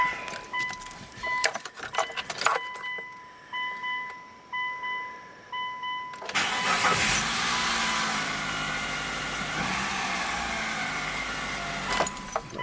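Keys jangle, a chime beeps repeatedly, and then the 2.4 L engine of a 2003 Mitsubishi Galant cranks and catches, settling into a steady idle close by with a slight rev.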